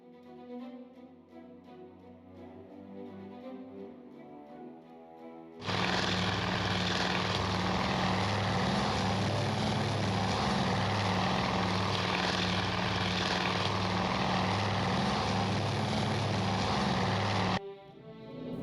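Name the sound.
propeller aircraft engine in Task Force Admiral video game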